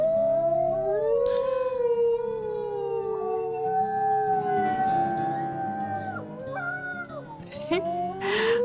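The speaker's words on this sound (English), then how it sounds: "Spark's howl is just the squeakiest little thing you ever heard." A wolf pup in the game WolfQuest lets out a thin, squeaky, wavering howl that rises and bends in pitch, close and clear, with a few short yips breaking in near the end.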